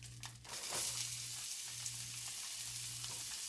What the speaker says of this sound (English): Gonna saute these for a couple minutes.